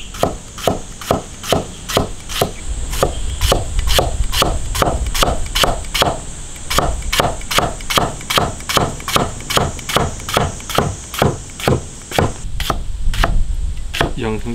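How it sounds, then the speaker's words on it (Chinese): A kitchen knife chops side vegetables such as onion and green and red peppers on a cutting board for a spicy duck-tongue dish. The strokes are close, crisp and rapid, in a steady rhythm of dozens of even hits. "鸭舌太少了，多切点配菜。"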